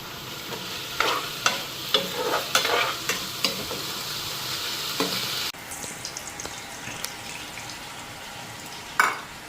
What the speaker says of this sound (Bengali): মাংসটা লবণ হলুদ মাইখা আগে হালকা ফ্রাই করুন